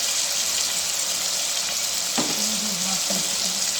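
Fennel seeds and red chili frying in hot oil for a watermelon-rind sabji: a loud, continuous sizzle with a few brief clinks from stirring near the end.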